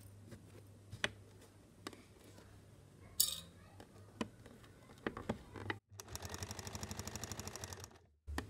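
A domestic sewing machine stitches salwar fabric in a fairly quiet room, starting after scattered clicks and taps with a steady rapid mechanical run of needle strokes lasting a couple of seconds near the end.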